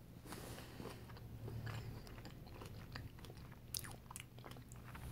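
Biting and chewing chocolate covered strawberries made with milk chocolate, close and quiet, with soft wet crunches and steady mastication continuing for several seconds without talk.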